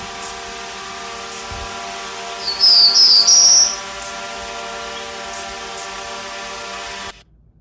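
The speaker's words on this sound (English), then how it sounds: "quite a lot of environmental and drone noise, as well as the sources of a grasshopper and a bird call" Steady broadband drone hum with grasshopper buzzing throughout in an outdoor field recording, and a brief bird call standing out near the middle before the noise cuts off.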